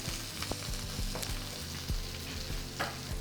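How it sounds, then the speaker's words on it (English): Food searing in a hot pan, a steady dense sizzle with scattered pops and a few soft knocks of a utensil, close and fairly loud with no talking. "we want to sear it off"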